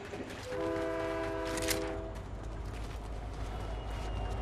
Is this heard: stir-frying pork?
no